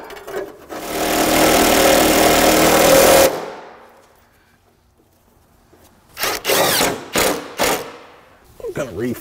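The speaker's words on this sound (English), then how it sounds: "This will allow me to take that fastener and screw it right in." A power driver screws a fastener in to mount an anti-theft bracket under a car near the catalytic converter: a close, loud whir of about three seconds, a pause, then several short bursts.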